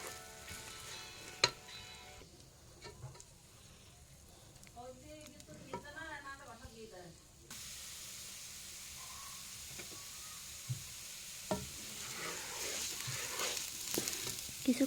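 Rice and masoor lentils toss and fry in a pan for khichuri, a continuous hissing sizzle with intermittent stirring scrapes; a brief patch of faint background talk midway.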